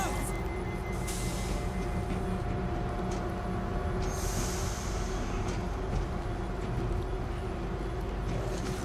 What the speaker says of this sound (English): Get the train going.